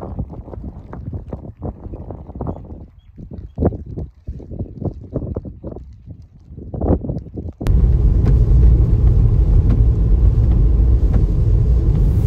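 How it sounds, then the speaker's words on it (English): A car being driven on St Helena, heard from inside as a steady low engine and road rumble that swells into a louder, constant roar with wind buffeting the microphone. No voices. "Now we are driving to another trail."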